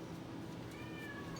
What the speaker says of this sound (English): And if you hear the cat in the background,